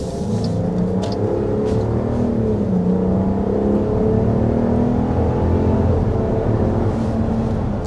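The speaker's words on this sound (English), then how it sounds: "we're going to go ahead and start with a hard acceleration" A 2024 Jeep Wagoneer SUV accelerates hard toward highway speed, its engine droning and rising steadily under road and wind noise, heard from inside the cabin.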